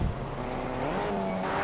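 Cars in a video game drive with a loud, continuous engine roar that rises slightly in pitch as they accelerate, close and unbroken, with no talking over it.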